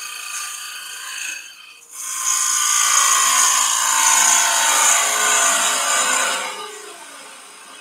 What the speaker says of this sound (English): Now I can do a push cut if you want.